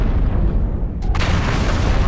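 Ammo explosion in the mech combat game MechWarrior Online: a heavy, booming blast with a rumbling low end, followed by a sharp burst of crackling debris, loud and up close.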